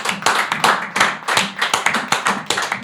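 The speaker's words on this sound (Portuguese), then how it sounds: "uma salva de palmas para Marco Teles" Applause for Marco Teles on a podcast episode: a small group claps in quick, uneven rhythm, loud and close, with no voices over it.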